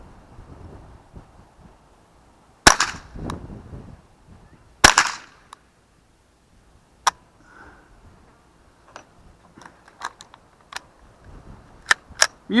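AR tactical long rifle firing copper-plated round nose ammunition, two sharp loud shots a couple of seconds apart followed by quieter scattered clicks and taps in an otherwise quiet outdoor setting.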